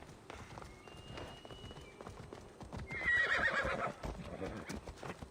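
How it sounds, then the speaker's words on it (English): A horse in the video game Assassin's Creed Odyssey gives a loud whinny over steady clip-clopping hooves, with game sounds and a voice talking underneath. "Fucking slow ass horse."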